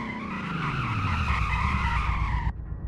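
A 1996 Chevlon Antelope with a 4-speed transmission brakes hard in a driving video game, its tires squealing in a loud, sustained skid that wavers for over two seconds and then cuts off sharply.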